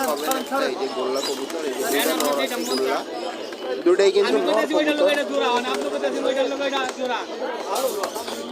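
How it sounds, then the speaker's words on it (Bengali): Pigeons coo and flutter in the busy Mirpur pigeon market in Dhaka, with steady crowd chatter and voices talking throughout. "সিরাজি আর গোল্লা গোল্লা কবুতর"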